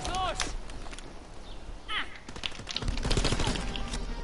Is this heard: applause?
no